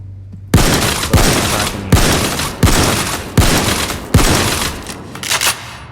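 Gunfire in the video game Payday 2: six loud, evenly spaced shots about every 0.7 seconds, each a sharp crack with a decaying tail, up front and without speech.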